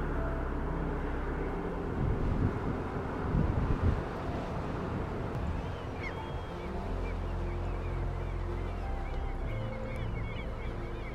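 Strong wind buffets the microphone while cycling across a bridge on a bikepacking trip toward North Cape, a steady loud rumbling roar with gusts swelling around the first few seconds and no talking.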